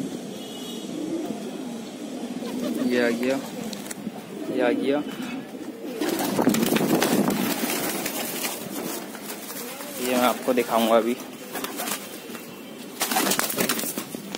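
Soft pigeon coos and a brief flurry of flapping wings, close by, with someone talking over much of it.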